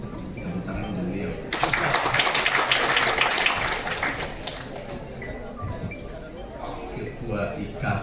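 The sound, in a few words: applause for the guest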